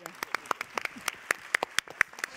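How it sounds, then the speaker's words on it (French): Sparse, scattered clapping from a small audience at an ESG conference, applauding a panel with distinct individual claps in an uneven rhythm. "On peut vous applaudir."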